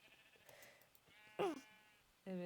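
Sheep in the Minecraft video game bleating, two short nasal bleats heard clearly over a faint background, the second cut off at the end.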